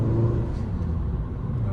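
A 2025 Toyota Camry driving, a soft steady engine and road hum heard from inside the cabin, low and even with a slight rise, quiet and brief.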